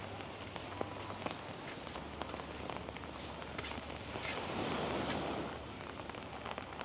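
Ocean waves wash onto a beach in Bali as a broad, continuous rush that swells midway, with wind buffeting the microphone and faint footsteps close by.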